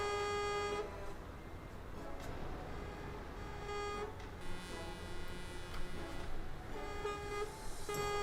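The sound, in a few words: truck horns honking in Euro Truck Simulator traffic (video game)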